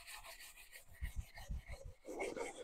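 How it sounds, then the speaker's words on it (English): Hand sanding a Calibra Turbo C20LET engine block with a flat sanding block and 400-grit abrasive cloth, giving soft rhythmic rasping strokes, close and moderately quiet, with a brief louder scuff at the end. "I'm just going to use a flat sanding block with Abernet cloth."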